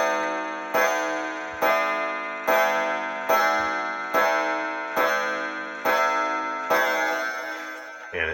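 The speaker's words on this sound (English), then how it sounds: "I think it'll continue to tick, but I'm going to leave it without the pace on for a little while, but I'll let you listen to it" A Chauncey Jerome triple decker clock under repair gives a slow, even series of about nine resonant, ringing beats, each loud at the start and fading before the next, heard close with no talking.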